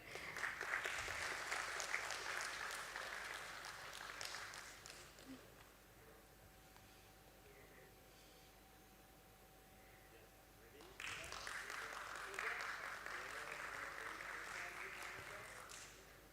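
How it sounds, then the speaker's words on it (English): An audience at a stock exchange listing ceremony breaks into applause, a burst of clapping that fades to quiet room murmur before a second round of clapping swells up again. "Ladies and gentlemen, we can clap for them."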